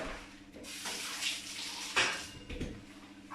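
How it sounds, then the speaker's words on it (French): Running tap water splashes over hands being rinsed at a kitchen sink during lamb roast preparation, a steady close rush with brief louder splashes. "Donc, je vais me rincer les mains"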